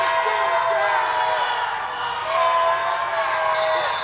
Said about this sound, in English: That Millville crowd's feeling it right now. They're excited.